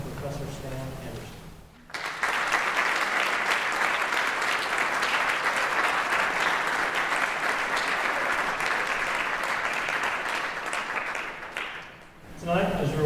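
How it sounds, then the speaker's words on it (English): A large audience claps in sustained, even applause for about ten seconds to honour two art professors at an event, beginning abruptly after a short pause and tapering off near the end. "Please join me in a round of applause for Dr. Ted Wisenhunt and Professor Stan Anderson"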